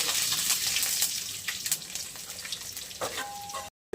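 Mustard seeds, cumin and garlic sizzle in hot oil with a dense crackling hiss and sharp popping spits, close and steady, ending in a sudden cutoff.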